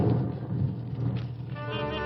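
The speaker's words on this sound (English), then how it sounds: "It's beginning to rain." Rain starts falling in an old radio drama, with a low rolling rumble of thunder beneath a steady wash of drops, moderately loud and close.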